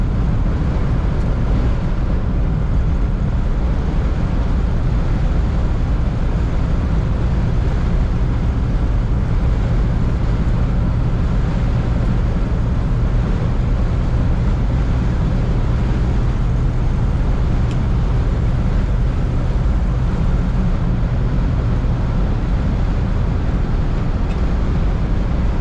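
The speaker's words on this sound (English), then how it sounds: "I get your typical wind noise from an old convertible." Steady rushing wind noise inside a moving 1957 Cadillac Series 62 convertible, a constant loud broadband roar with a low road hum underneath, unbroken for the whole stretch.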